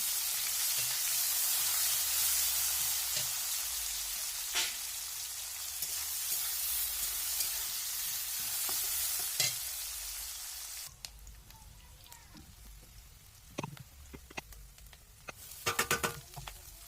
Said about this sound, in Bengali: দিয়ে আমি যে পেঁয়াজটা কুটে রেখেছিলাম সেটা এবারে আমি কড়াইয়ের মধ্যে দিয়ে দিচ্ছি